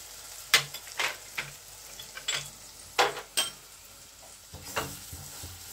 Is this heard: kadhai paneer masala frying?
yes